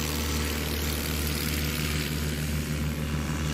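A propeller-driven light sport aircraft roars through its takeoff roll, its engine a loud, steady drone that holds constant and close throughout, with no voices.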